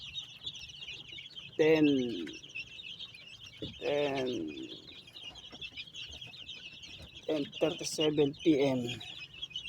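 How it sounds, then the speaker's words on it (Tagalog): Hungry chicks peeping at night during feeding time, with a persistent high chirping chorus, several louder cluck-like calls from nearby fowl and a person talking at times over the birds. "lalabas para magpakain ng sisiw"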